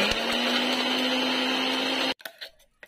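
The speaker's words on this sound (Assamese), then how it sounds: "এতিয়া মই মিক্সাৰত দি দিছো আৰু ভালদৰে মাৰি ল'ম" A kitchen mixer grinder blending a cooked paste, a loud steady motor whine that runs for about two seconds and then cuts off abruptly, leaving brief clatter.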